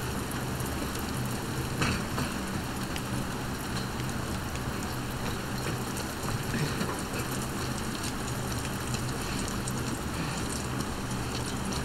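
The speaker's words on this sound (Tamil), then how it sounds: "மழை பெய்யுது ஜோராக" Heavy rain in The Last of Us Part II video game, a dense, loud, unbroken hiss of downpour lasting throughout, with no voices over it.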